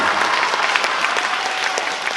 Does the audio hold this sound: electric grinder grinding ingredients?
no